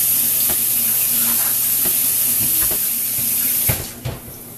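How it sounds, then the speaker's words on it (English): Water runs steadily from a kitchen tap as produce gets a quick rinse, a loud continuous hiss with a few clunks and knocks, fading and breaking up near the end as the flow is shut off. "So, I'm just going to turn on the water and get these quick rinse."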